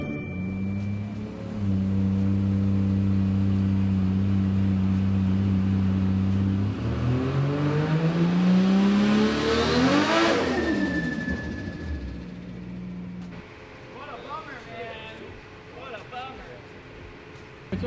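A Nissan Skyline R33 fitted with Tomei and HKS parts revs hard on a dyno, engine note climbing steadily in pitch before the clutch slips near 4,900 RPM and the sound drops away, with people talking over the loud run.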